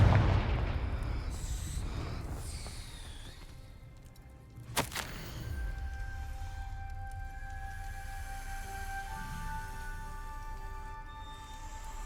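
A Confringo fire spell from Hogwarts Legacy goes off in a single sharp, loud blast partway through, set against a rumbling game backdrop with lingering ringing tones afterward.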